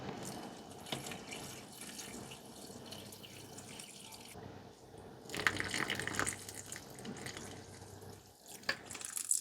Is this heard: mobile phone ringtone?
no